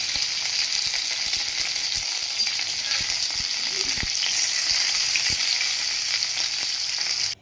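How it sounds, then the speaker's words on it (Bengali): Okra (ladies finger) fries in a pan with a steady, dense sizzle and occasional crackles, close and continuous, ending abruptly. "তো এটা ভাজা হতে থাক"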